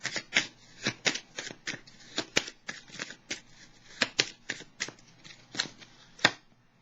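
Tarot cards shuffled by hand, a rapid irregular series of crisp riffling flicks and slaps, close and clear against a quiet background.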